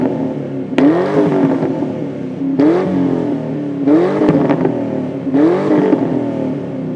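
A 1994-1998 Mustang GT V8 with an SLP Loudmouth catback exhaust revs four times in quick bursts, each sharp rise dropping back to a deep rumbling idle, close by.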